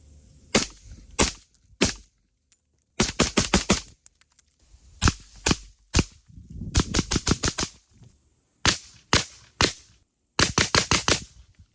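Suppressed rifle fire from a Jackal rifle fitted with a Sandman S suppressor: loud, sharp cracks in short bursts and quick strings of several shots, separated by brief pauses, with no talking.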